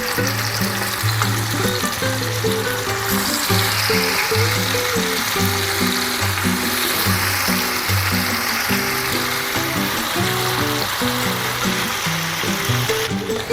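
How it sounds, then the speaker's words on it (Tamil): Masala-coated fish fries in coconut oil on an iron dosa pan over lowered gas, a steady loud sizzle with constant crackle running throughout, while background music plays underneath. "கேஸை ஸ்லோ பண்ணிவிட்டு மீனை போடலாம்."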